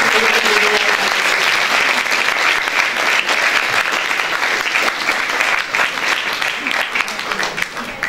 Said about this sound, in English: put your hands together and give Mr. N. Chandra a huge round of applause